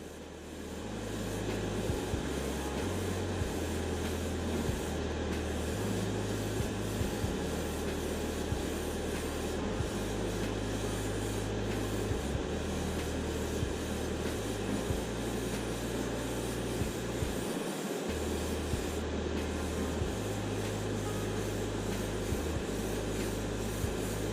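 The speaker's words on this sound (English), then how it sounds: "put it straight in the airbrush with a bit of lacquer thinner and spray it on" An airbrush sprays primer thinned with lacquer thinner onto a Fujimi BMW E21 320is scale model body, giving a steady, even hiss that runs without pause, with a low mechanical hum from the compressor underneath.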